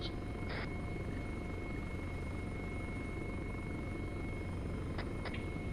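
A helicopter drones steadily overhead during an armed tactical operation, its rotor and engine noise a constant wash with a few brief high chirps near the start and end, no voices heard.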